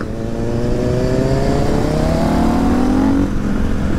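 A supersport motorcycle accelerates hard during a ride, its engine pitch climbing through the gears in a loud, close, steady rising whine with a brief dip near the end and no speech.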